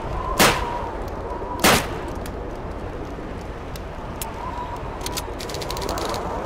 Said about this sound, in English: Good, now fire at the other one.